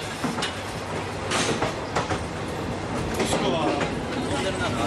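A packed passenger train rolls along rails in western Japan, a loud steady rumble with rattling carriage noise and faint clickety-clack, heard from inside the wagons, with voices mixed into the din.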